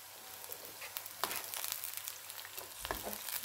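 Bitter gourd and garlic frying in a pan for an instant pickle, giving a steady close sizzle with occasional stirring scrapes and pops, no voices.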